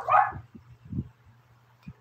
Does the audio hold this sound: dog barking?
yes